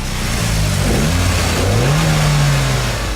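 Tuned Mitsubishi Evo X with new cams, intercooler and aftermarket exhaust, a loud, close engine rev that drops briefly then climbs and holds a strong, throaty note for a few seconds.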